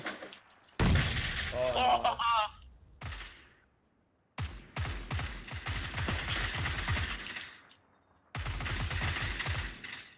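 Gunfire from an M4 rifle and a shotgun in the battle royale video game PUBG, several sharp bursts of shots separated by short silences, with a player talking briefly.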